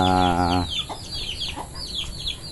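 A harmonic call at the start gives way to a flock of chickens clucking and chirping nearby at feeding time, in quick, overlapping bursts.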